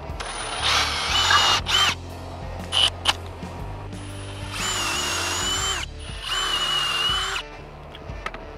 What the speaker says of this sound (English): the first thing I'm gonna do is drill some pilot holes for the tap cons.